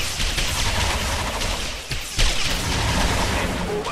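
Units in the real-time strategy game Grey Goo fire on enemy wall pieces, a dense, continuous barrage of gunfire and booms that rises in a sharp burst partway through.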